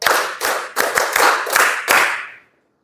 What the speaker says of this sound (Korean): 박수 7번 시작.